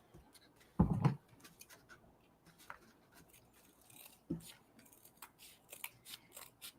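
Scissors snip excess canvas fabric from the edge of a glued canvas craft piece, giving one short, close cut followed by a fainter second snip amid quiet handling noise.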